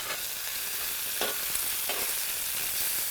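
Rabbit pieces browning in a paella pan give off a loud, steady, hissing sizzle that fills the whole span, with a couple of brief shifts as pieces are moved; no voices.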